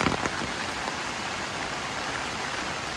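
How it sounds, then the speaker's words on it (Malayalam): Heavy rain falls steadily in a village, a dense, even wash of drops on surfaces, close and continuous with no other sounds standing out. "നല്ല മഴയാണ് ഗൈസ്."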